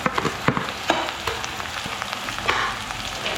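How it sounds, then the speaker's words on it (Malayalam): Chopped tomatoes tossed into a hot pan of softened onions for a Kerala soybean curry, sizzling and crackling up close with sharp stirring clacks and irregular spatters. "ഇനി ഇത് അരിഞ്ഞ് വെച്ചിരിക്കുന്ന തക്കാളി ഇടാം."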